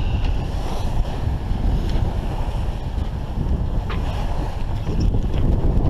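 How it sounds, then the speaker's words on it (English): Strong wind roars across the microphone while building waves wash and slap against a sailboat moving under genoa on Lake Erie, a continuous loud rush with no voices. "Waves building a little bit."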